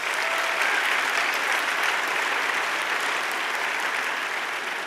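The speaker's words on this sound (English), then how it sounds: "So give yourself a round of applause." Audience applause at a corporate energy training event, a dense, steady wash of clapping from a large crowd that holds at an even level throughout, with no voices.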